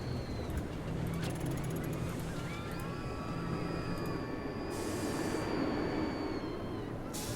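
Two roller coaster trains in the video game Parkitect run along the track with a continuous rumbling roar and thin squealing wheel tones rising and falling over it, steady and loud throughout with no talking.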